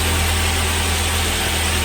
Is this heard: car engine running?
yes